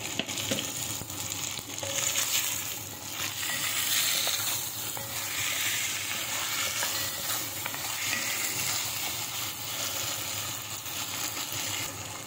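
Deer tendon and spare rib stew with oyster sauce sizzles steadily in a pan while being stirred, a continuous close frying hiss with scraping, no talk.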